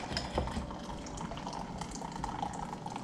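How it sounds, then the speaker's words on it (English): Cold, cheap beer is poured into melted butter in a pan and whisked for a fish taco batter, a soft, close liquid splashing and trickling that runs steadily and fairly faint. "Grab you some cheap beer, put it in here, whisk it up."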